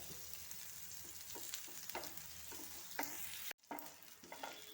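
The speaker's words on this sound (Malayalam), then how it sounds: "നമ്മളിങ്ങനെ ഇളക്കി തിരിച്ച് മറിച്ച് ഇങ്ങനെ ഇട്ട് ഇളക്കി സോയ മൂപ്പിച്ചെടുക്കാം" Soya chunks stirred and fried in a pan for a raw plantain and soya curry, with close, uneven scraping and sizzling strokes and a short pause near the end, no voices.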